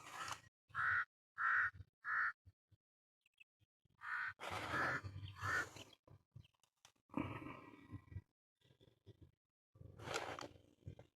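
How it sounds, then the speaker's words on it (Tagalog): A black crow caws outdoors during a drone flight: three sharp, evenly spaced calls, then a longer ragged run of harsh caws, with scattered fainter calls near the end. "uwak nga. Tunog uwak"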